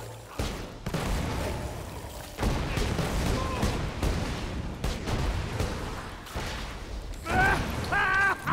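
Gunfire from a ranged weapon in the video game Borderlands 2: repeated loud shots and bursts with booming impacts run through the whole stretch, with a rising whine near the end.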